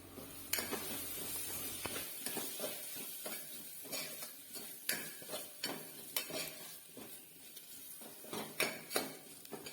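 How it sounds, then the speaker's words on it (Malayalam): Onions sauté in a pan with turmeric, chilli, coriander and fennel powders for a Kerala-style dish, a soft sizzle under repeated clinks and scrapes of a spoon stirring against the pan. "കുറച്ച് പെരുംജീരകം പൊടിച്ചത് കൂടി ചേർത്ത് ഇത് ഒന്നുകൂടി വഴറ്റി എടുക്കാം"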